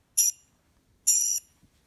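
Two bright, high jingling bell chimes ring out in a Sphero iPad game, each lasting about a quarter second and separated by a pause, clear and alone over faint background.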